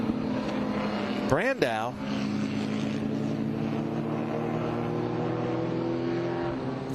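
An air-cooled Porsche race car sweeps past on the track, its engine note briefly rising and falling before settling into a steady drone under a commentator's voice.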